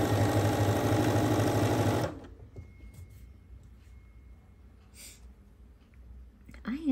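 A sewing machine runs steadily and loudly for about two seconds, then stops abruptly, leaving quiet room noise with a faint voice near the end.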